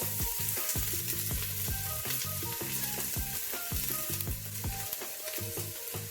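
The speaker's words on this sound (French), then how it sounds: "On va commencer par revenir les échalotes." Shallots sauté in olive oil in a pot, a constant close crackling sizzle with bright spitting pops and occasional stirring clinks, steady in level and free of speech.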